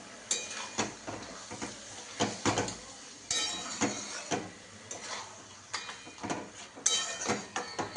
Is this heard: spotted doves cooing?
no